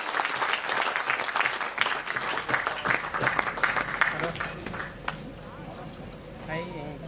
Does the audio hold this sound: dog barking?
no